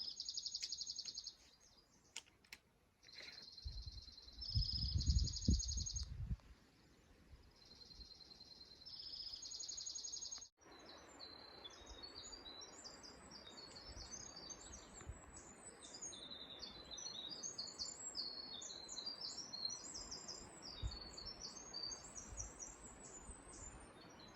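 A songbird sings along the Appalachian Trail, repeating bright, high chirping phrases at a steady pace. The song sounds fairly far off against quiet outdoor ambience, with a few low thumps early on.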